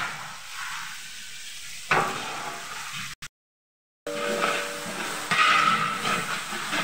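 Ginger and garlic frying in a pan for mutton biryani, a steady close sizzle and hiss with occasional stirring scrapes, briefly cut to silence midway before the frying resumes louder.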